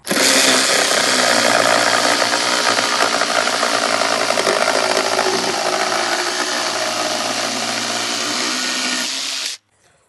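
A Sturmax RSM8812CL 12-volt cordless reciprocating saw cuts steadily and loudly for about nine seconds with a harsh buzzing rattle, then stops abruptly.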